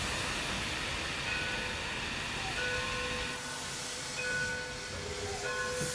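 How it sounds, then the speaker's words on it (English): An 1897 Baldwin-built steam locomotive, Number 7, at Greenfield Village starts to move: a steady broadband rumble and hiss fills the whole stretch, with thin whistle-like tones drifting in and out, no speech. "Number 7 is a steam locomotive,"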